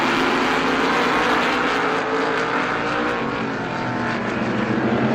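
Stock race cars at Star Speedway roar together down the back straightaway in a heat race, a loud, dense, continuous engine drone that holds steady for the whole stretch with no commentary over it.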